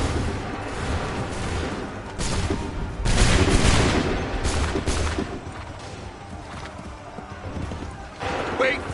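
Musket volley in Assassin's Creed III, with a loud burst of massed gunshots near three seconds and another near eight, amid horse hoofbeats and shouted commands.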